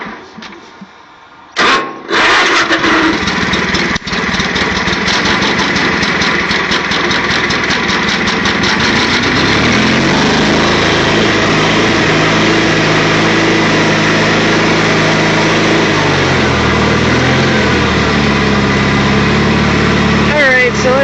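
A Craftsman III lawn mower engine makes its first cold start of the year, sputtering to life after a brief pull and settling into a loud, steady small-engine run with a faint rough idle underneath.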